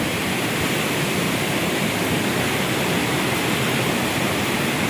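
Water from Wawa Dam gushes in a loud, constant roar of dense rushing noise, unbroken and close, with no voices.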